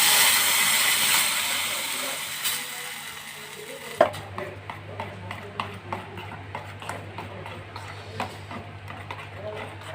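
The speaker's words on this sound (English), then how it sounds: "Now add the tomato paste into it." Tomato paste goes into a hot pan of chili mixture: a steady sizzling hiss at first, then a run of sharp spoon taps and scrapes against the pan at an uneven rhythm.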